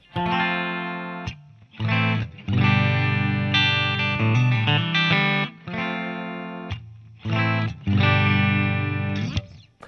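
Distorted chords on an Ibanez Iceman IC-420FM electric guitar with a bright bridge-pickup bite and a touch of reverb, strummed in loud bursts separated by short pauses.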